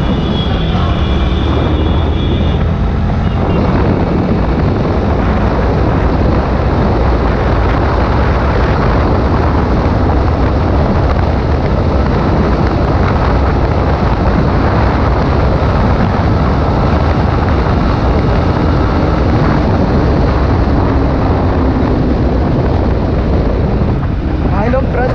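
A Yamaha MT-15 BS6 motorcycle on the move, where heavy wind roar buffets the microphone and almost buries a steady engine hum for the whole stretch, with bits of voice faintly mixed in.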